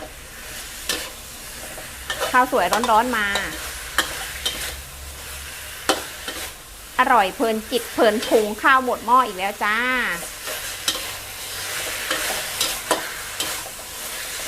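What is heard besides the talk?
catfish stir-fried with herbal curry paste sizzling in pan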